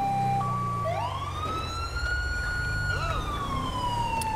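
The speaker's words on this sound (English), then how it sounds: "And we get to hear the siren" A loud police siren in Grand Theft Auto V wails and sweeps up and down close by, over a low engine rumble.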